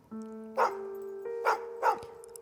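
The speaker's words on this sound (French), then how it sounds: "ces aboiements." A dog barks three times with clear pauses between barks, heard over a steady tonal hum; the barks sound distant and fairly faint, and no voices are heard.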